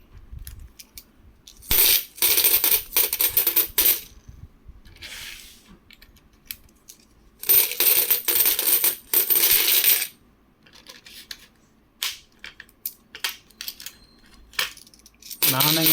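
Banaras Hindu University commemorative coins, uncirculated and delivered loose in a sack, are poured and handled in bursts of dense metallic jingling and clinking, separated by quieter stretches of scattered single clinks, close up and loud.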